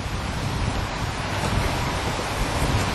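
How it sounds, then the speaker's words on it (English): Strong wind gusts across a waterside deck and buffets the microphone, making a steady, loud roar with no break. "we've got a pretty good wind today"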